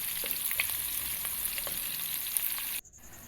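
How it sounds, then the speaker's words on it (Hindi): Chopped large onions sizzle steadily in a pan over a wood-fired clay stove, a close, continuous frying hiss with faint stirring scrapes, ending abruptly. "दो बड़े साइज़ के प्याज मैंने लेकर काट लिए थे और इनको थोड़ा फ्राई करके"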